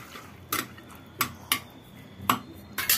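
Spoon knocking and scraping against a pot while a gogna mixture is stirred after a bowl of water goes in, five or six distinct clinks spaced irregularly over a soft background.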